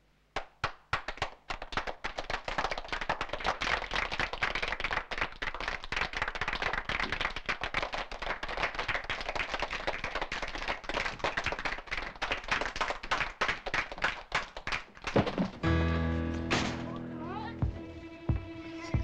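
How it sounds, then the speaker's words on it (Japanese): Classroom of students clapping to welcome a newcomer: a fairly close, brisk patter of many hands lasting about fifteen seconds, then giving way to music or another sound at the end. "みんな拍手で迎えてやってくれ。"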